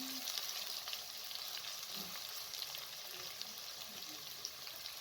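Potatoes frying in a pan for saag aloo give a steady, dense sizzle that holds even from start to finish, with faint stirring and no talk.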